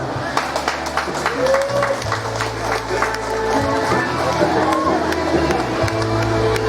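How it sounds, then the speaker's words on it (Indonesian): An audience claps and cheers at an Unduk Ngadau pageant during the Kaamatan harvest festival in Kampung Bugaron, sustained crowd applause with scattered sharp claps over a low steady hum from the stage sound system. "Berikan tepukan."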